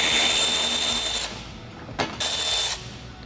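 A power tool whirs in two short bursts to remove 7mm screws from the lower front bumper bracket of a 1999-2004 Ford Lightning pickup, with a quiet pause between the bursts.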